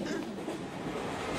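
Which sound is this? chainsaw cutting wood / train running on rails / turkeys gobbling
train running on rails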